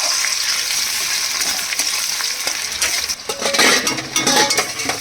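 Banana flower fries with spices in a pan, giving a steady close sizzle, followed by louder stirring scrapes and metallic clinks of a utensil against the pan.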